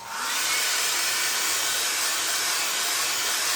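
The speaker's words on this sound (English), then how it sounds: "hair dryer," A hair dryer blows with a steady, loud whoosh of air that starts within a fraction of a second and holds constant without any voices.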